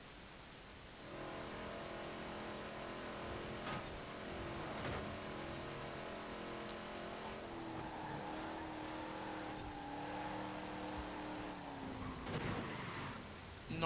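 A 1970s American car in Forza Horizon 4 revs and accelerates, its engine note climbing and shifting through a sustained, steady drone with no talking over it.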